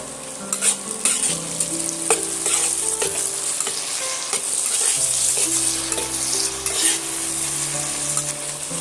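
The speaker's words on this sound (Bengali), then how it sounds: "টমেটো কুচিগুলো আমি এর মধ্যে দিয়ে দেব দিয়েও আমি কিছুক্ষণ ধরে এইভাবে নাড়তে থাকবো" Chopped tomatoes frying with onions in a pan for dum aloo, a steady close sizzle broken by repeated scraping stirs and light clinks of the spoon against the pan, with no talking.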